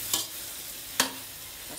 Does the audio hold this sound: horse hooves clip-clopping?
no